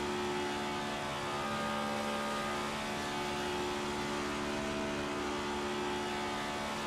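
A racing car engine drones steadily in a video game, a constant loud buzzing hum with sustained tonal whine and no break, shifting up through the gears.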